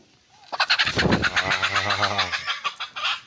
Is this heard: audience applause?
no